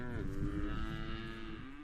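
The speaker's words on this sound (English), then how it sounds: "This time, it's cows." A single long, drawn-out moo from cattle, the kind raised in Wallowa ranch country, close and steady with a gently falling pitch and no voices over it.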